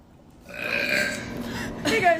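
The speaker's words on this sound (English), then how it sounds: "I posted a video of me slamming a can of pop and then belching" A loud, drawn-out burp right after a can of pop is gulped down, close to the mic and carrying on for about two seconds with a stronger swell near the end.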